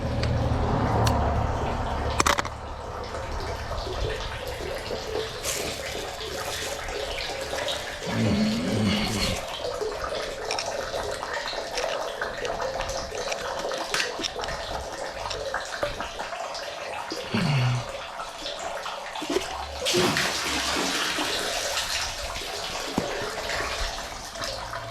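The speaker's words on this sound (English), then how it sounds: "A little bit of water in that pipe." Water rushes steadily through a septic effluent pipe, a continuous close hiss and gurgle lasting the whole stretch, punctuated by occasional knocks and thumps.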